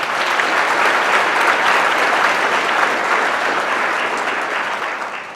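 An audience at a college of optometry white coat ceremony gives sustained applause. The clapping is dense and even, then tapers off slightly at the end.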